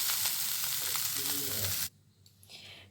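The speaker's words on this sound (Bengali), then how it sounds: "এখন আমি ভাজা ভাজা করে নিচ্ছি।" Mixed vegetables sizzling in hot oil in a kadai for a restaurant-style mixed veg, a loud continuous close fry with stirring scrapes that cuts off abruptly, leaving faint room noise.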